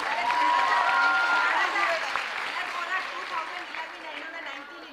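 Quiz show audience clapping loudly, a broad dense burst that starts strong and gradually thins and fades, with some chatter mixed in.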